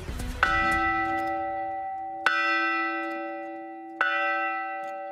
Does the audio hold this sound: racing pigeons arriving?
no